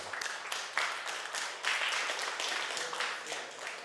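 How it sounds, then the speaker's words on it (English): Workshop participants applauding together after a children's book creation session, a dense, continuous wash of many hands at moderate volume with no break. "Applause to everyone."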